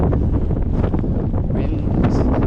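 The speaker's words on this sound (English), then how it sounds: "Wind." Heavy wind buffeting a microphone outdoors at night on a walk from Wadebridge to Newquay, a loud continuous low rumble and roar that fills the whole stretch with no break and no voices.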